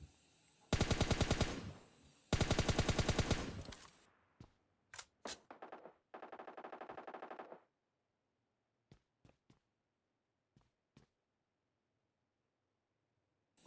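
Bursts of automatic gunfire in a fast-paced battle-royale shooter game finish off a knocked enemy: two long loud bursts, then scattered single shots, a quieter sustained burst, and faint sparse pops trailing off.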